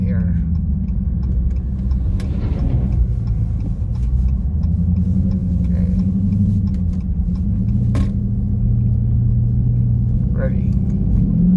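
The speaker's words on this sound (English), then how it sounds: "So let's do a little bit of paddle shifting in here." A Dodge Charger Scat Pack fitted with a Hellcat air filter gives a steady, loud, close engine rumble while paddle shifting, its low drone holding throughout with a few faint ticks above it.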